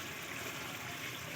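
Kewra water poured into a pot of chicken biryani, a soft, steady trickle with an even hiss that runs unbroken through the moment, fairly quiet and with no voices.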